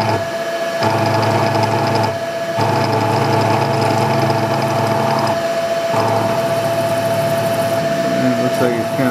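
A drill runs steadily with a loud motor whine, driving a quarter-inch screw extractor with a chipped flute into a stuck extractor, with brief pauses and speed changes over the run.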